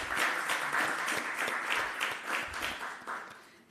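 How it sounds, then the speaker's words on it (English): Applause from an audience after two research presentations at a national health research conference, steady rolling clapping from a modest group, fairly faint and distant, swelling and easing over a few seconds. "let's give them a round of applause again"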